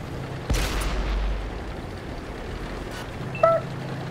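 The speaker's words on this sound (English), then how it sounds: "It's a shotgun cannon." A shotgun-style cannon fires in a tank battle video game: two heavy booms about three seconds apart, the first deep and sustained, the second sharper, over steady low engine rumble.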